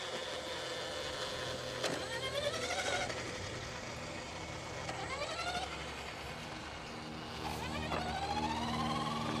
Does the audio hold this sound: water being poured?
no